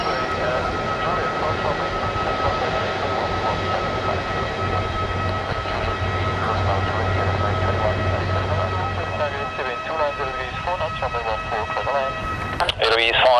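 An Edelweiss Air Airbus A330-300 taking off from runway 16 in Zurich, a steady loud engine roar with a low rumble building and a rising jet whine, fairly close.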